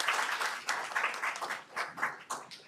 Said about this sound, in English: One last round of applause for Jim and Joshua.